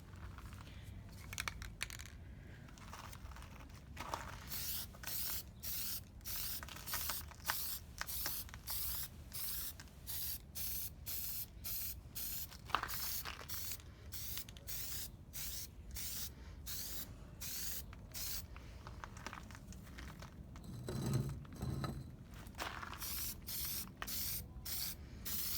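An aerosol spray can hisses in repeated short bursts while parts of a Dollar Tree DIY gumball machine are painted, the bursts evenly spaced and close, with faint handling clicks between them.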